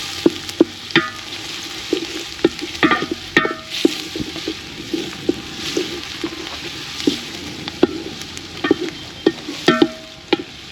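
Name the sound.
onions frying in hot oil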